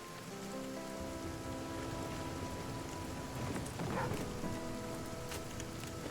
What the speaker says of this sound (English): And suddenly the rain starts playing.